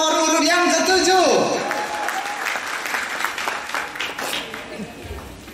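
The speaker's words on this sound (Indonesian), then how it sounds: "Beri tepuk tangan nomor urut yang ketujuh." Audience applause at a Christmas solo singing contest, bursting in as a sung note ends, then a steady, fairly loud clapping crowd that slowly softens, with a voice heard briefly over it.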